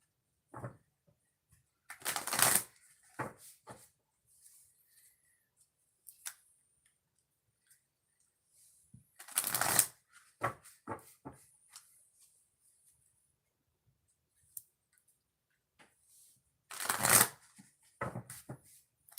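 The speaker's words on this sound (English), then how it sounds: "I got to shuffle the cards" Tarot cards shuffled in three quick, crisp bursts spaced several seconds apart, with soft taps and handling noises in between.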